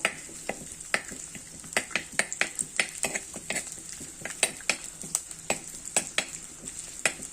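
Ginger and garlic fry in hot oil for a fish curry with raw mango, under frequent sharp spoon clicks and scrapes against the pan in a quick, irregular rhythm over a steady sizzle.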